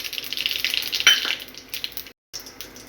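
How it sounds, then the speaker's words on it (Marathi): Mustard seeds and cumin crackling in hot oil, a close hissing sizzle with a few sharp pops and a stirring clink, dropping briefly to silence before resuming faintly. "मोहरी छान तडतडली की जिरं घालायचं"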